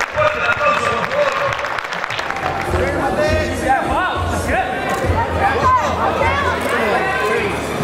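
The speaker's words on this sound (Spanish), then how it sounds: "Fuerte el aplauso, por favor" An audience at a bodyfitness competition applauds loudly and steadily throughout, mixed with crowd chatter, cheers and an occasional shout or whistle.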